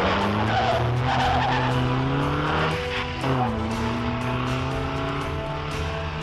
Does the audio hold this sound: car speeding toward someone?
yes